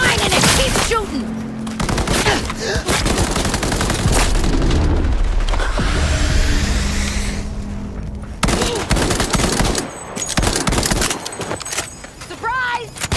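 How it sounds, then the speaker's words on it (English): Gunfire in the video game Cyberpunk 2077, a loud, dense barrage of shots and blasts that runs almost the whole time, briefly easing and then resuming, with voices cutting in over the battle. "Quit whining and keep shooting!"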